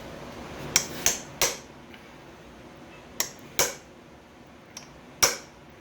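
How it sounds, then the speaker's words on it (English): Sharp metallic strikes of a chisel working off the timing cover on a 1938 Ford engine, seven distinct taps in small clusters, crisp and fairly close, with no talk. "I get myself a good sharp chisel. Come in right here."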